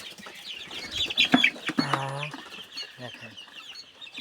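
Eighteen-day-old hybrid Sonali chickens cluck and squawk nearby in short bursts, with one louder drawn-out call in the middle and scattered rustling around them.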